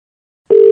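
A steady telephone tone sounds right after a call is hung up on a phone prank call, starting abruptly about halfway through and holding loud and unbroken to the end.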